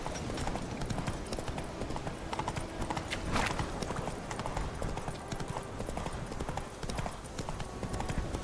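Roach, the horse in The Witcher 3, gallops with fast, steady clip-clop hoofbeats, loud and continuous in the foreground, with brief vocal sounds and game noise mixed in.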